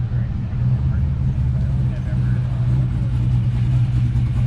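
At a Cars and Coffee show, a car engine gives off a steady, deep rumble nearby while people talk over it. The rumble stays fairly even, with little sign of sharp revving.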